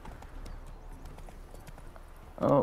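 Horse hooves galloping in The Witcher 3 video game, a soft, steady clip-clop rhythm under quiet game ambience that ends in a sudden loud burst of sound.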